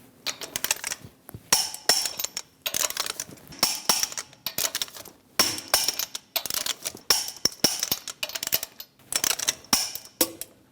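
Lug nuts on a 2003-2025 Chevrolet Express being torqued to spec with a torque wrench and 22mm socket, bursts of rapid ratcheting clicks in repeated short runs with brief pauses, close and crisp.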